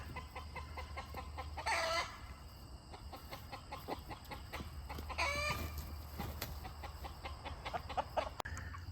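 A large rooster crows twice, loud and drawn out, amid steady clucking and farmyard chatter from Silkie chickens.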